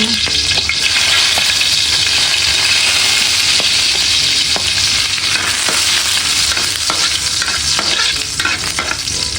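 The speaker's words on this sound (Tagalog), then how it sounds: "Ako pa ay nakapagpainit na po ng mantika. Ilalagay na po natin itong mga bawang." Garlic frying in hot cooking oil, a loud, continuous close-up sizzle with crackling and scattered stirring clicks throughout, and no voices.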